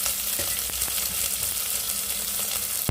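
Chopped onion sautés with mustard seeds in an open pressure cooker over low flame, giving a steady close sizzle with faint stirring scrapes and a sharp clink at the end.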